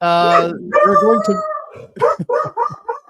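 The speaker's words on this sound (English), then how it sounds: "dog sitting two dogs that are getting a little excited" Two excited dogs howling and barking close by, with a long, wavering howl followed by a string of shorter, sharp barks and yelps.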